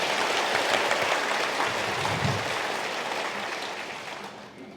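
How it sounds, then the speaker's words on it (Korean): Audience applause at an indoor housing cooperative members' meeting: a dense wash of many hands clapping that holds steady, then gradually fades toward the end. "자, 이명훈님한테 다시 한번 박수 부탁드립니다."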